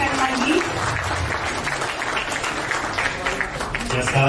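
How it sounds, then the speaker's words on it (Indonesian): Sustained applause from an audience at a ceremony where a souvenir is presented to the Governor of Jakarta, steady and dense throughout, with some talk mixed in underneath. "Boleh tepuk tangan sekali lagi."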